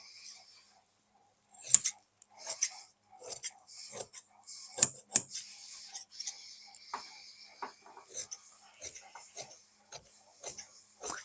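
Scissors cutting trouser fabric on a tailoring table, with a series of crisp, irregular snips and clicks, close and quiet, separated by brief silences.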